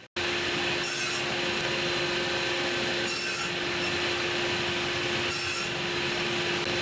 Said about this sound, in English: I can then begin cutting the slots into all 3 pieces at the same time.